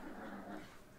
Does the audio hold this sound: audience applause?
no